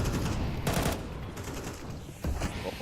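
Two scout sniper rifle shots ring out in Counter-Strike during a competitive match, a sharp crack near the start and another near the end, set against steady game ambience with no voices.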